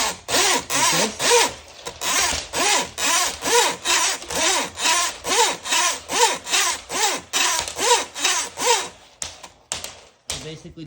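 A Ryobi 50-foot drain auger cable is yanked back and forth in a steady, rasping rhythm, about two strokes a second, close and fairly loud, with a few scraping bursts trailing off at the end.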